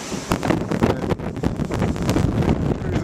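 Strong wind gusting across a sand beach during an El Niño storm, loud buffeting roar and microphone rumble, continuous and close, with no speech.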